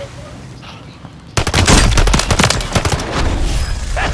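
Gunfire in a Call of Duty battle royale match, starting abruptly as a loud rapid burst of shots that keeps up in dense, crackling volleys.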